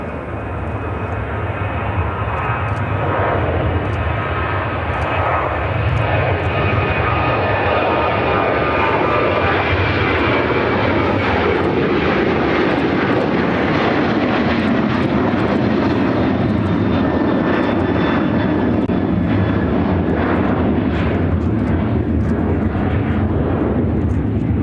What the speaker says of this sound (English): Airlines 1551 taking off to Los Angeles on the 737-800 in the AirCal Retro livery.